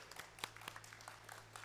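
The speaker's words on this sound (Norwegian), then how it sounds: "Vi gir han en applaus" A small congregation claps at a Christian summer convention meeting in Seljord, giving faint, fairly sparse and uneven applause over a low steady hum.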